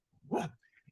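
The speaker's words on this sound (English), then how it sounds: "that's my dog." A dog gives a single short, loud bark at close range, with a few faint yips and whimpers trailing after it in an otherwise quiet room.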